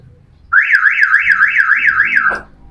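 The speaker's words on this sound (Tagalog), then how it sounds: "Nag-alarm siya, gawa ng bukas yung pinto sa sliding" A Toyota Hiace Commuter van's alarm sounds on remote lock, a loud warbling electronic siren rising and falling about seven times over two seconds before cutting off, close and alone.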